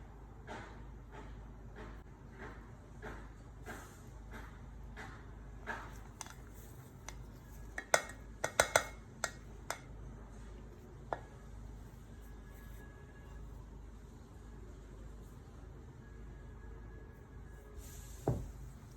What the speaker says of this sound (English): I'll be stirring the lotion